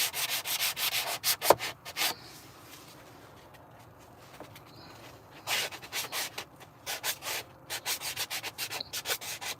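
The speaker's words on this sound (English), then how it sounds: "A handheld sander." A handheld sander rubs across a surface in bursts of gritty, scratchy strokes, with a quieter pause in the middle before the rhythmic sanding resumes nearby.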